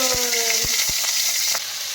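Prawns hit hot oil in a wok with a loud, close sizzle, a few quick clacks of metal on the pan early on, then the crackle settles lower.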